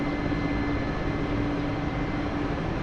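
The Mi-8 helicopter engine in the DCS flight simulator drones steadily at a loud, continuous whine and rumble as throttle is added, with no talk over it.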